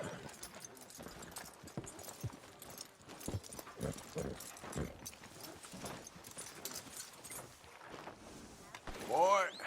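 Horse hooves clip-clop across Red Dead Redemption 2 terrain in an irregular trotting rhythm, mixed with other in-game sounds and voices, with a brief louder burst near the end.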